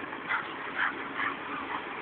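A dog whimpering and yipping during a dog fight, repeated high whines in a steady rhythm over constant background noise, heard fairly close.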